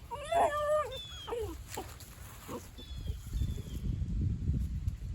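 A puppy whimpers in several high, wavering whines close by on a farm with goats, followed by low rustling and shuffling noises.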